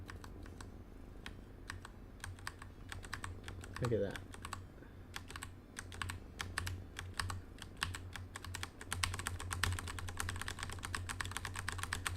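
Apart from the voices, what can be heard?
typing on a computer keyboard to control a robot simulation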